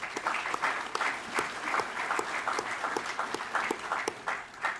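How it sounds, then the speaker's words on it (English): Keynote audience at a corporate summit applauds with steady, sustained clapping from a large crowd, filling the room at an even level throughout. "So please give yourselves a round of applause"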